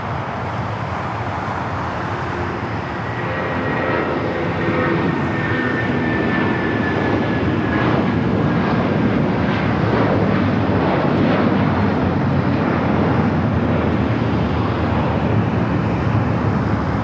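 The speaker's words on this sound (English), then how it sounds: "Our next takeoff here on the south side, United Airlines flight 1700 heading to Newark is 757-200." United Airlines Boeing 757-200 taking off at night from the south side of LAX, bound for Newark: a loud, steady jet roar that swells and holds, with a thin whining tone sliding through the middle and no talk.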